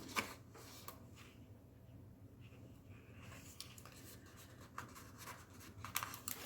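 Pen writing in a planner, faint close scratching strokes coming in short bursts with quiet pauses, paper rustling now and then, soft and intimate.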